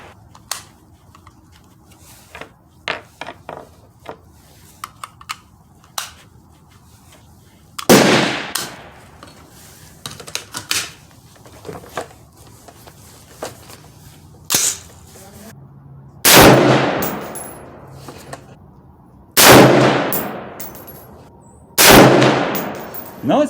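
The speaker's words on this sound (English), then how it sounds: "So last 2 shots might be a little different." A Smith & Wesson M&P15 rifle fires several sharp, loud shots several seconds apart at a shooting range, with quieter clicks and handling noises in between and no talking.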